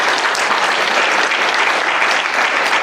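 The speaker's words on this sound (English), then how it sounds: "Clap it up for Tony." A crowd claps continuously at a school athletic hall of fame induction, a full, even wash of applause that holds steady from start to finish without speech.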